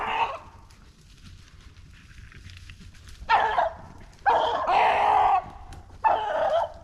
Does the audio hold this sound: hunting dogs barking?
yes